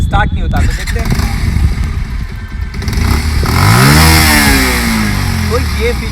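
A Bajaj Pulsar 125 Neon motorcycle engine runs close by, a steady rumble that swells into a rising rev partway through, with a voice talking over it.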